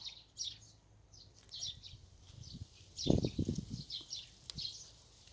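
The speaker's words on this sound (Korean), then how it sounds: "유난히 새소리가 많이 들리는 오늘 이 시간" Small birds chirp in short repeated bursts outdoors in a spring orchard of young wild pear trees, faint and a little distant, with soft rustling and a brief thump partway through.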